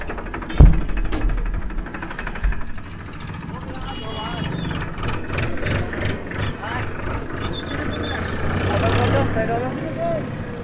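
Tractor engine rumbling steadily while riding along on a rural road near Gaya, a continuous mid-level drone with occasional knocks and voices talking over it.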